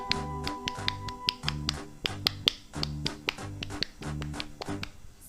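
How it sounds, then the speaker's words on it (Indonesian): Pramuka scout clap done by a group in a rhythmic patterned sequence, crisp sharp claps falling into short repeated bursts with brief pauses between them, clear and close. "Dua kali tepuk pramuka"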